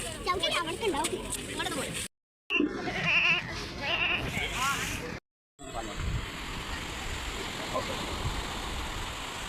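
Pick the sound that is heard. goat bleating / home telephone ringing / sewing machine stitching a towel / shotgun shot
goat bleating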